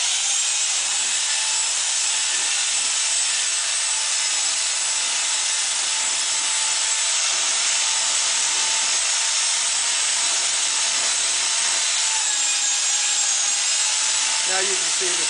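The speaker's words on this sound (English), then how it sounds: "you want to continue to stir until you have a nice fluffy mix" Hot pipe coating mix being stirred continuously, a steady loud scraping and rubbing with no break, dense and unvarying from start to finish.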